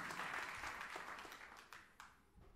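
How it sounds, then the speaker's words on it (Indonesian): A congregation at a church sermon applauding, a warm rush of clapping that thins out over a couple of seconds into a few scattered claps. "Yang setuju berikan tepuk tangan yang meriah buat Tuhan."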